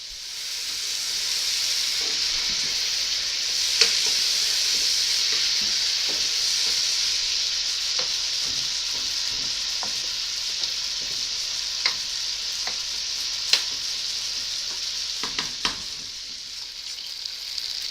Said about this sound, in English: So I'm going to stir this periodically to make sure that it doesn't burn